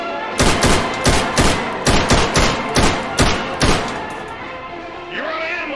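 Semi-automatic rifle fired in the VR game ModulAR, about nine loud, evenly spaced single shots in a steady cadence, then a brief quieter mechanical rattle at the end.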